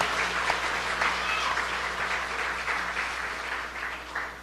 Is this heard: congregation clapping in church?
yes